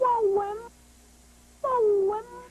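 A cat meows twice, close and clear, with a second of quiet between the two calls.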